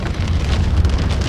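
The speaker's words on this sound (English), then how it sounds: "They sound absolutely insane because it is just literally downpouring today." Heavy downpour drumming on a car during a rainy day, a dense, loud, continuous hiss of rain on the roof and glass with no pauses.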